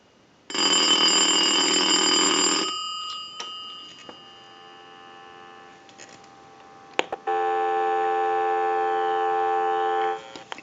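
An old telephone on a repair bench rings in long electronic bursts during a ring-cycle test, one loud burst, a pause with faint tones, then a second long steady burst.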